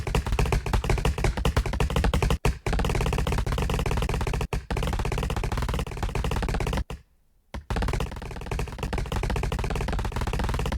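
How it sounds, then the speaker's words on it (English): Rapid, dense tapping hits sound continuously as trees are chopped inside a truck in the Roblox game Lumber Tycoon 2, loud and close, broken by a few brief silent gaps. "started chopping the trees inside of the truck"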